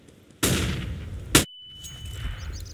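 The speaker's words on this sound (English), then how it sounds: "Deploying flashbang." A flashbang grenade detonates in CS:GO with a single loud, sharp bang, followed by a sustained high-pitched ringing tone and muffled game sounds.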